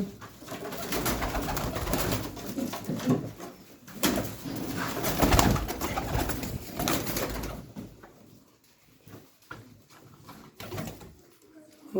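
Pigeons coo softly and repeatedly at close range, with rustling and occasional wing flutters, then the sounds fade toward quiet near the end.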